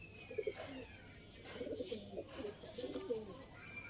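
Teddy breeder pigeons coo in a pen in three soft, throaty bursts, low and near, with faint chirps and room noise around them.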